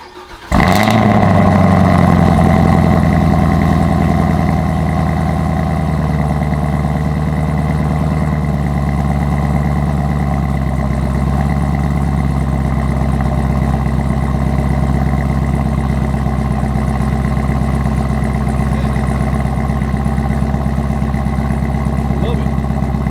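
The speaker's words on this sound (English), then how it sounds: "We gotta give it some baby revs up front so we can hear the actual supercharger sound." Supercharged Camaro ZL1 V8 fitted with a Roto-Fab intake starts with a sharp burst, then holds a loud, steady, close-miked rumble with a high supercharger whine layered over the low engine drone for over twenty seconds.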